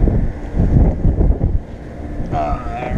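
Strong wind buffets an outdoor microphone in heavy, rumbling gusts that ease off partway through, with a faint voice and some lighter background noise toward the end.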